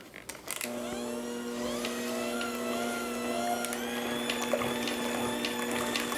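A small electric hand mixer with a built-in light whirs steadily as it beats melted butter into Brussels waffle batter, a constant motor whine starting after a brief clatter and holding close and even throughout.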